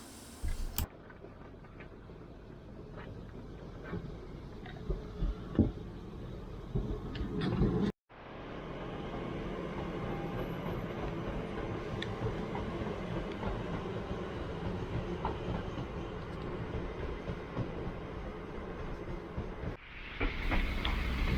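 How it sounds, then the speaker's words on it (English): A train rumbles past at a distance near Crewe station, a continuous rolling roar with faint rail noise, after a brief clattering start and a short cut. "watch the trains coming and going into Crewe station"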